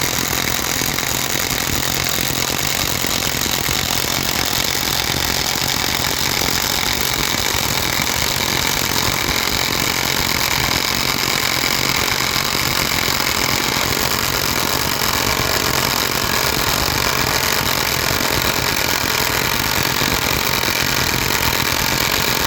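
A Parkside cordless impact wrench with an impact socket runs on a bolt, giving a loud, continuous, rattling hammer-drive roar that holds steady for the whole stretch, with no voices.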